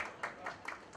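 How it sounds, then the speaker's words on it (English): A few distinct claps at a Bollywood song launch event as a guest is called on stage, heard faintly and spaced out in a quiet hall. "Please, can we have a huge round of applause?"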